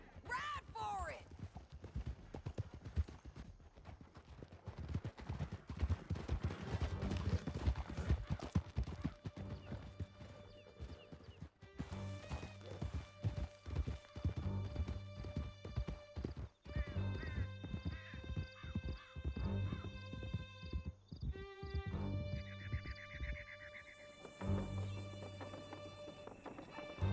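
Horses galloping in Red Dead Redemption 2, a canyon chase: dense, loud hoofbeats pounding close with whinnies and crashes, while voices shout over the ride and musical tones rise toward the end.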